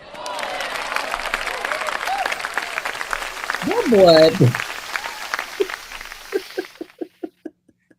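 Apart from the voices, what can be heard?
audience applause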